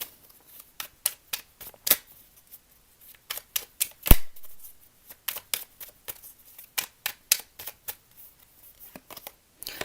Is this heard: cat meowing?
no